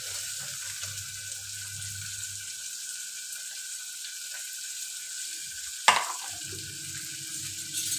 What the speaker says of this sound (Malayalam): ഇനി സവാള പൊടിപ്പൊടിയായിട്ട് അരിഞ്ഞത് ഇട്ട് കൊടുക്കാം